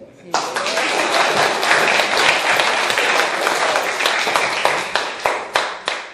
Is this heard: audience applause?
yes